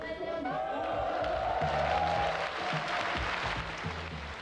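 Navy sailors and military staff cheer and applaud a performance by Miss Korea contestants, a distant, blurred crowd roar with scattered whoops, partly mixed with a voice and background tones.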